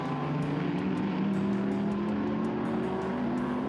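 Vintage race cars, including a Porsche driven hard toward turn 2, roar steadily around a track with sustained loud engine drone and shifting pitch. There is no talking.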